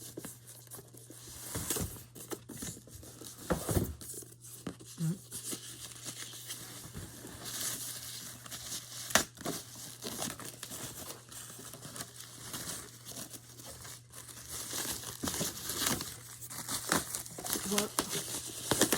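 Packaging around a new Xbox crinkles and rustles as it is unboxed: close, irregular bursts of crackling plastic and paper with sharp taps, plus soft scattered handling sounds.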